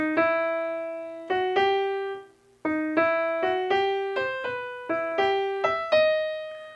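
A piano plays a short melodic phrase of separate struck notes, each decaying, with a brief pause partway through; clear and alone.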